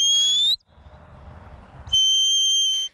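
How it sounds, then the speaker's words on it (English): Two sharp, high-pitched herding whistle blasts for a border collie working cattle, each about half a second to a second long, separated by a pause of faint outdoor rumble, loud and close. "And with the help of some whistle commands"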